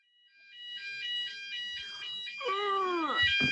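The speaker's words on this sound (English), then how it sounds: "1 o'clock on a Thursday, fire alarm test" A fire alarm test inside an office building: a shrill electronic alarm pulses in a steady on-off pattern, growing louder, then shifts into a falling, wailing tone near the end.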